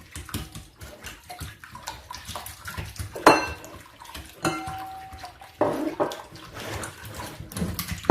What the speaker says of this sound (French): Et là on va bien fouetter les œufs.